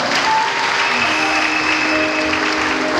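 A large audience in an arena concert claps steadily, a loud, dense wash of applause that lasts throughout with no voice above it.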